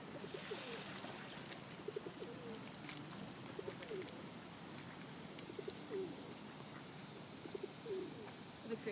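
Pigeons coo in a park, several soft repeated coos recurring every second or so from nearby birds over a steady outdoor background hiss.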